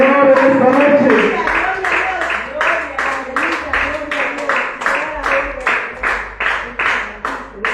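A church congregation claps in a steady rhythm, loud and evenly spaced. The claps come in after a brief stretch of voice and keep going as a regular beat to the end.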